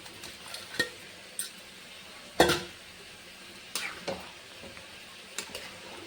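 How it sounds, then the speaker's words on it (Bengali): Fried chicken pieces going into a simmering chilli chicken sauce and being stirred: soft bubbling under several sharp clinks and scrapes of a spoon against the pan, spaced irregularly. "এবার সব ভাজা চিকেনগুলো দিয়ে দিলাম।"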